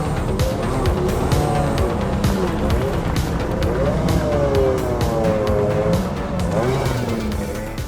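Rally cars, including Group B and WRC machines, drive a parade lap on a race track, engines roaring continuously and loudly as several pass close by with rising and falling revs throughout.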